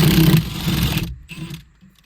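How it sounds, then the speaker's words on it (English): A Milwaukee impact wrench with a 17mm socket removes a steering wheel bolt, giving a loud, buzzing hammering burst for about a second, then a shorter, fainter rattle before it stops. "Now here I'm using a Milwaukee Impact 17mm socket"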